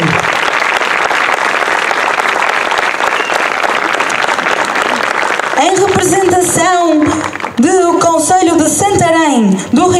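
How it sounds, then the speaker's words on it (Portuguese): Audience applause for the Santa Cruz do Bispo folk dance group at an ethnographic gala, a dense steady clapping that fills the first half, then someone speaks loudly over a thinning crowd. "Um aplauso para o Grupo Folclórico da Casa do Povo de Santa Cruz do Bispo"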